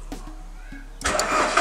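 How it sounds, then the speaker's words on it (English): A car engine cranks briefly and catches after the ignition is turned on a vehicle fitted with a modified clutch switch, turning over in quick rhythmic pulses and then settling into a loud, steady run, close by. "let's see if we start the car"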